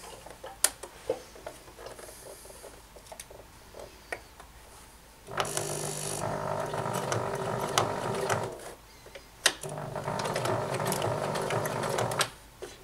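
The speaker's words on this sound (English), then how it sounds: "Bring the needle down so you can see where it's going to go, and then you start sewing it." A sewing machine stitches a patch onto a five panel cap, running in two steady, rapid mechanical bursts of a few seconds each, with quieter clicks and handling sounds between them and no talking.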